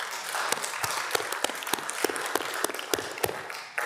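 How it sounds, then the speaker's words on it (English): Scattered applause at a state transportation commission meeting in New Mexico, a thin, moderately quiet patter of claps with a few sharper individual hand strikes standing out. "So give them a round of applause."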